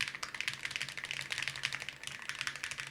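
Rapid, light key clatter comes from a gaming keyboard with an aluminum shell and Cherry MX Red switches, fairly quiet and close, in quick uneven bursts with no speech.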